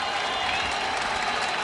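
A baseball crowd at Shea Stadium during a Nationals vs Mets game gives a steady wash of applause and crowd noise, dense and sustained without distinct individual claps.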